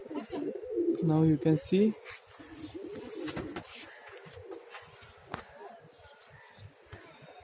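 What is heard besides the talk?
pigeons cooing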